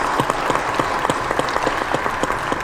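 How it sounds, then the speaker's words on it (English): An audience at an industry conference panel claps after the discussion, a moderate, fairly sparse round of applause with distinct individual claps in an even patter over a short span. "Let's give them all another round of applause."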